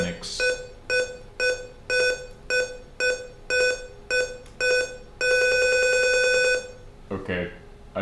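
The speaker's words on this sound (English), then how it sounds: "I don't like that it's beeping so fucking much," A computer beeps during an Arch Linux install, giving a run of short, evenly spaced electronic tones that ends in one longer sustained beep. A brief voice is heard right after.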